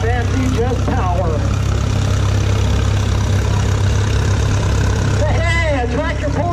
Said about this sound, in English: This is a 1935 Moline Twin City KCA, owned by Kirby Olson and operated by Grant